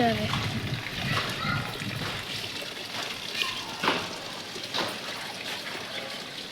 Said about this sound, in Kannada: ಇಲ್ಲಿ ನೀರು ಬಂದವ್ರಿ